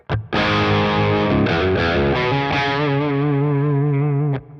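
A heavily distorted electric Stratocaster guitar plays sustained chords through an amp without the Kraken pedal, loud and alone, ringing out before cutting off.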